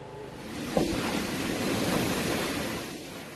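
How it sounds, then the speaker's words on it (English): Strong wind and high surf batter a southern Thailand shore as a tropical storm approaches, a steady loud roar of waves and gusts with a brief thump near the start. "The south shores of Thailand right now being battered with strong winds, high waves as the first tropical storm in 3 decades draws closer."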